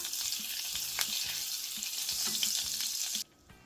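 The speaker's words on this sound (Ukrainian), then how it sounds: "Котлети смажимо на середню вогні з двох сторін до золотавої скоринки" Chicken cutlets sizzle and crackle in hot oil and butter over medium heat with a constant bright hiss, scattered pops and light clinks, then the sizzling abruptly drops away.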